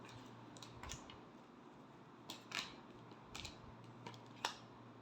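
Tarot cards being shuffled by hand for a final time, giving a few faint, brief riffling and slapping bursts spaced apart over a quiet background with no talking.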